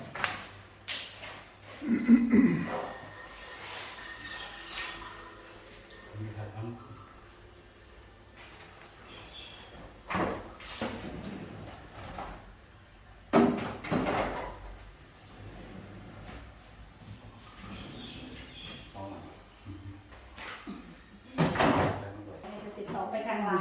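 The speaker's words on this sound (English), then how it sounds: "Getting the doors put on now." Cabinet doors being fitted on newly built kitchen cabinets during a Thai house renovation, with scattered knocks, thumps and light clatter spread through the stretch, a few sharper bangs standing out, and voices talking intermittently.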